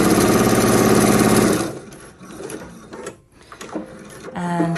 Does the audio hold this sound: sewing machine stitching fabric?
yes